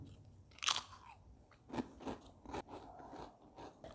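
Crunchy ketchup-flavoured Pringles chips are bitten with a sharp crisp snap, followed by several moist chewing crunches, close and quiet, with no talk.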